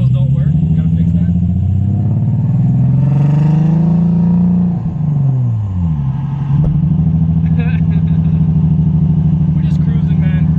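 A lowered car cruises down the road with a steady, loud engine drone that rises and dips in pitch as it changes speed, heard from inside, with people talking over it.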